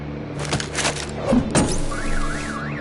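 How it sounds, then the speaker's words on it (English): Car alarm in a Batman video game, triggered by a bat stunner: a rising and falling electronic siren wail starts partway through, after a couple of thuds and brief noise bursts over a steady game hum. "My bat stunner would set off the car alarm."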